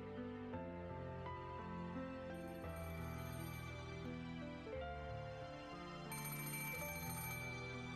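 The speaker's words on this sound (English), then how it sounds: "Suddenly the phone rang" Telephone in the visual novel game Rose Guns Days, ringing repeatedly in bursts over steady layered game background music, faint overall with no talking.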